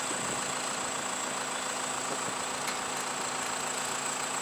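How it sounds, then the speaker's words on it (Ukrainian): A forklift engine runs steadily at a building site for a warehouse hangar, giving a continuous low idling drone with a slight knocking roughness. It is fairly close and even throughout, with no talk. "Погрузчик виручає нас."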